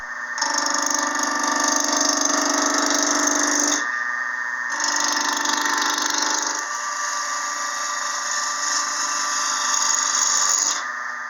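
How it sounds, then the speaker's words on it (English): A 3/4 inch roughing gouge trues up a wood blank for a pepper mill and salt shaker kit spinning on a lathe, a loud steady scraping whir that stops briefly and resumes. "Now I'll go ahead and true it up with my 3/4 inch roughing gouge."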